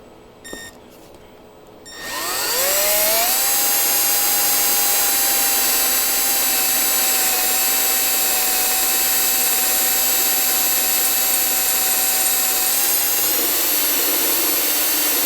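Cheap Harbor Freight drill bits boring into a steel sprocket for a J3 project, the drill spinning up after a few faint clicks into a loud, steady high-pitched whine that holds unbroken for over ten seconds.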